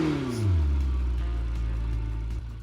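Lamborghini Temerario starting up in Roblox Driving Empire: a starter whir climbs into a quick engine rev, which then settles into a steady, loud idle rumble.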